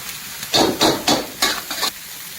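Egg chow mein noodles being tossed and stirred in a hot pan with tomato sauce and green chilli sauce, Kolkata street-food style: about five loud, rhythmic scraping, sizzling strokes in quick succession, then a quieter tail.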